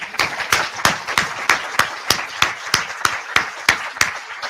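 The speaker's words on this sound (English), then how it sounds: "Let's give him a warm round of applause." A single person claps slowly and steadily in a school committee meeting room, sharp evenly spaced hand claps roughly every third of a second, close and distinct rather than a crowd's applause.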